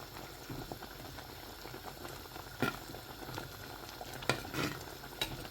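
A Kerala fish curry with coconut oil and curry leaves simmering in a pot, soft bubbling and popping close by, with occasional louder clinks and stirring scrapes over a quiet, steady base.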